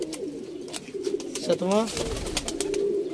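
Pigeons being flown in a pigeon competition coo with a deep warbling call close by, while someone talks over them.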